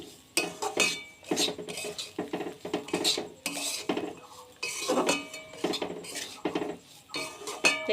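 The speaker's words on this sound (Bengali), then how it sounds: "দেখতে পাচ্ছ যেমন ভাবে দিচ্ছি ঠিক সেম ভাবেই কিন্তু আমি নেড়ে চেড়ে নিচ্ছি" A utensil stirs and scrapes semolina roasting in a metal pan, giving repeated clinks and scrapes in an uneven rhythm, close and fairly loud, with no talk.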